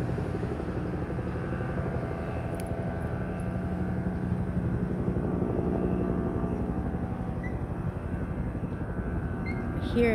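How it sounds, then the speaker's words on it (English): A helicopter flies overhead near a wildfire, its steady rotor and engine drone loud and continuous throughout, with a faint voice in the background. "Here comes a helicopter."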